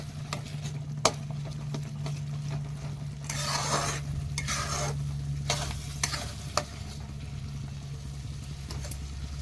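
Masala spice paste for Bengali-style chicken fries in a pan, sizzling steadily while a spoon stirs and scrapes it in several bursts, with a few light clinks of utensils.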